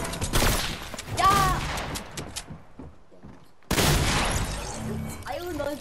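Rapid bursts of gunfire from a shooter video game, loud and dense at the start and again after a brief lull, with talk mixed in over the shots.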